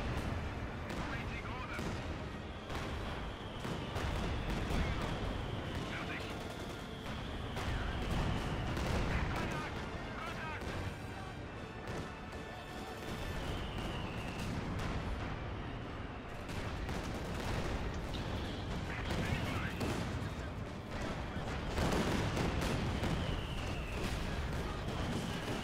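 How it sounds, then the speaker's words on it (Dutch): Cannons and rifles fire throughout a Company of Heroes 2 battle, with steady rumbling artillery and scattered gunshots under ongoing game noise while people talk over it. "Die kanonnen zitten ook van de zijkant te ragen, hè?"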